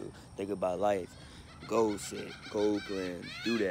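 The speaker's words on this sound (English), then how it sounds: "You know you hear the birds outside with me" Birds call outdoors in the morning, a fowl-like honking or crowing that rises and falls in several bursts under someone speaking close to the microphone.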